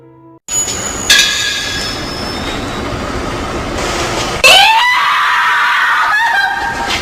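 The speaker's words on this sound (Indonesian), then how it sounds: "Pas di tengah perjalanan, reporter ini berteriak karena melihat sesuatu." A female reporter screams loudly and at length in recorded footage, a sustained shrill cry that jumps higher partway through, heard close over steady rumbling background noise.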